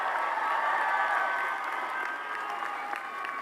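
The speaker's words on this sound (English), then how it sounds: "Let's hear a cheer" A graduation crowd at the 2023 CSUDH commencement cheers and applauds for honors students, giving a sustained wash of clapping and cheers that eases slightly toward the end.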